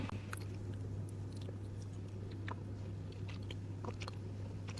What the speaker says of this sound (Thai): ขออนุญาตใช้มือตกเลยนะคะ